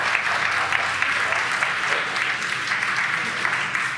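Crowd cheering and applauding after a SpaceX Falcon 9 booster touchdown on a Starlink mission, a dense, steady roar of claps and shouts that holds throughout at full level.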